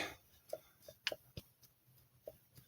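A Tecumseh TVS90 engine from a 1984 Toro mower, turned by hand with its crank-retaining plate missing, gives a few faint, scattered mechanical clicks and ticks of the loose crank shifting in a quiet room.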